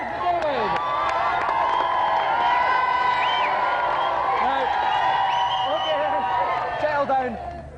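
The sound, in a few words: applause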